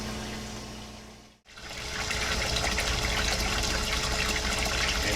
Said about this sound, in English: And now we have water circulation all the way through the filtration system.